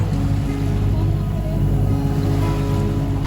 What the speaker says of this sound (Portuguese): desligamos o motor